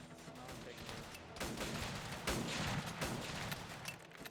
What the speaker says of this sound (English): He's firing a few shots.